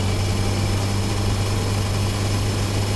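A Honda CB1000R motorcycle engine idles steadily with a low, droning rumble and constant vibration, unchanging throughout and with no voices.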